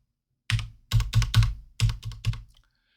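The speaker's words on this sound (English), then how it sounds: "I just typed in the number there, and I'm going to press enter on my keyboard" Computer keyboard keys pressed while entering a number into SAP software, about seven crisp, close keystrokes in quick uneven bursts with short pauses between them and no talking.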